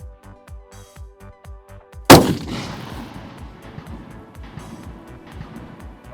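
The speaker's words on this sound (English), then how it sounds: "Let's hit some steel." A hunting rifle fitted with a Vortex optic fires a single sharp, loud shot at a steel target, then the report decays into a softer echo, with a steady rhythmic pulsing in the background before and after.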